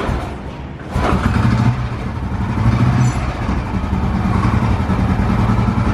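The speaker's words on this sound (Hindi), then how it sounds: "तो सबसे पहले गाड़ी को स्टार्ट कर लेते हैं।" A car engine is started and left running, with a loud, steady low mechanical hum and idle rumble close by.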